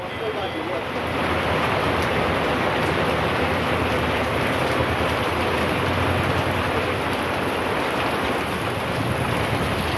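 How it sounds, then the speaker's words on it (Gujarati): Heavy rain pours down in Bhavnagar as a loud, unbroken roaring hiss that fills every moment after a brief quieter opening. Voices are faintly present beneath the downpour. "ભાવનગર જોરદાર વરસાદ પડ્યો."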